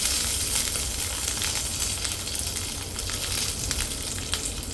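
Curry leaves crackle in hot oil while tempering for a spicy coconut sambal, a dense, loud, continuous sizzle with sharp pops scattered throughout.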